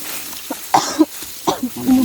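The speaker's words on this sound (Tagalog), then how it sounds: "Umubo ako." A person on a cold-morning trek coughs several times in a short, uneven series of close, sharp bursts, with a little throat noise in between.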